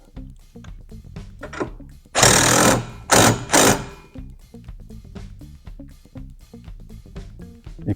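A power tool tightens the 15mm rear cage bar bolts on a Can-Am Maverick Sport rear windshield install, firing in several loud, short bursts between quieter workshop sounds.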